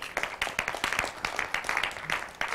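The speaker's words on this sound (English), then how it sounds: "everybody give Hallie a round of applause" A lecture-hall audience at Vanderbilt University applauds, a dense patter of many hands clapping at once, fairly loud and continuous through the short burst.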